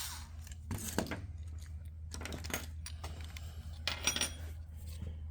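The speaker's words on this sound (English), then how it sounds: "loosen up the two flathead screws that hold that bottom piece on" A screwdriver works at the two flathead screws on a Twist-A-Throttle fitted to a Maruyama-style string trimmer, making scattered close metallic clicks and scrapes over a low steady hum.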